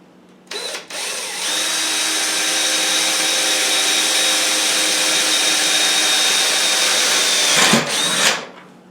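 A power drill bores holes in a planer stand leg, starting with a brief whir and then running steadily at high speed for about seven seconds before winding down, loud and close.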